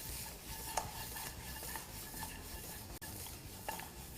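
Mutton is tossed and stirred in a cooking pot for kabab masala, with a soft steady sizzle and occasional scraping and clinks from the utensil against the pot, close and continuous with no talk.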